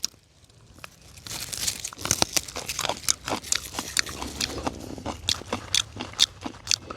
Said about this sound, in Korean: 자, 제가 한번 먹어보겠습니다.